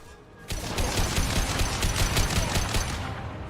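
A sudden loud burst of rapid gunfire from the concussive shot in the Mass Effect 2 video game breaks out after a short quiet lead-in and rattles on continuously at close range for about three seconds.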